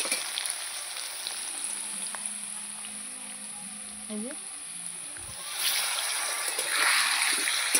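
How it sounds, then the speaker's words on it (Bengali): Salted potato pieces fry in a pan, giving a steady hiss and sizzle that grows louder and brighter toward the end. A brief voice sound is heard partway through. "দিয়ে এবার লাল লাল করে আমি এটাকে ভাজবো।"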